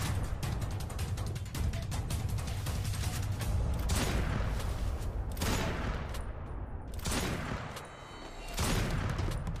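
Rapid bursts of MA2B automatic gunfire from a mobile shooter game, a loud, continuous rattle of shots with brief dips between sprays and mechanical clicks mixed in.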